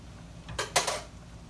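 A spoon stirs a spicy garlic sauce simmering in a pot, giving two quick, close scraping strokes in the middle of an otherwise quiet moment.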